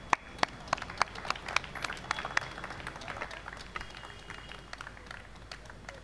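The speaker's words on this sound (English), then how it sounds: "Can we please have them on stage with a huge round of applause?" Audience applause at a literary festival session, a faint, distant patter of clapping hands with a few sharper claps at the start, thinning gradually over several seconds.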